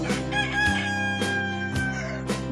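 A rooster crows loudly and close by, several drawn-out calls one after another with short breaks, and no other sound around them.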